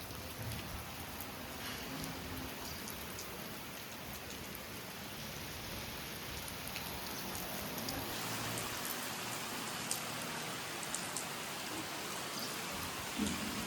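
Steady, dense rain pours down in Chalala as the sky darkens, an even hiss of drops hitting surfaces that continues unbroken and fairly loud throughout, with no voices.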